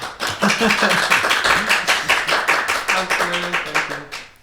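Concert audience applauding at an album-release show, a dense steady run of hand claps with a slightly uneven beat, fairly loud and close, fading out near the end.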